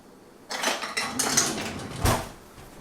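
Metal cutlery rattles and clinks in a kitchen drawer as a teaspoon is fetched, several bright jangling bursts close by, ending in a louder clatter.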